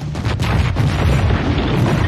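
A musket volley fired aboard a ship gives a heavy, sustained rumbling boom that fills the whole clip at close range, with no talk over it.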